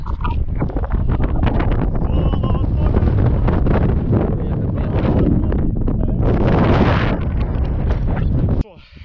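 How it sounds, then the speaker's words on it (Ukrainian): Strong mountain wind in the Carpathians roars and buffets the microphone almost nonstop, with muffled voices faintly underneath, before dropping off abruptly at the end. "дуже сильний вітер"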